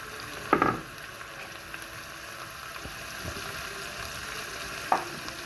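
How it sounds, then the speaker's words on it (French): Sausages frying gently in olive oil in a pan, a soft continuous sizzle, broken by two sharper clacks of stirring or utensil contact near the start and end. "On va bien les faire revenir tranquillement."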